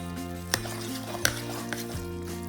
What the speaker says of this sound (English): And I'm also going to add this can of tuna. And we're just going to stir that around.